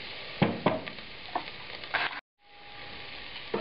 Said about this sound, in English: We'll stir this around and continue cooking it for another couple of minutes before we add the wine.